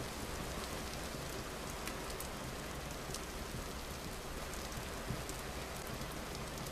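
Steady rain pours in the video game Vintage Story, a dense even hiss of drops hitting surfaces with a few brighter patters, continuous and fairly quiet, with no talking.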